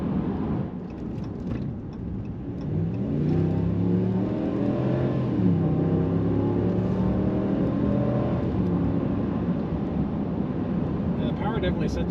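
A 2022 Ram 1500 pickup truck accelerates, its engine rising through the revs as a loud, steady drone heard from inside the cab, with low road noise underneath.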